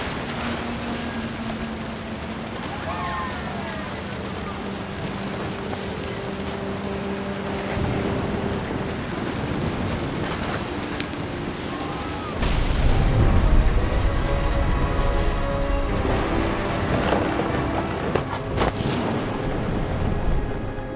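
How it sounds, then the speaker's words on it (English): A thunderstorm in the video game What Remains of Edith Finch gives a constant hiss of heavy rain with distant rumbling, then a louder, deeper thunder roll about midway that keeps the storm fuller afterwards. "Thunder sounded much too close and full of angry power."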